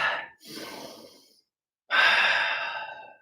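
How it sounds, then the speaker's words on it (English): A deep breath during a guided breathing and relaxation exercise: a long audible inhale, a short pause, then a loud, slow sighing exhale, close and alone. "Okay, big breath."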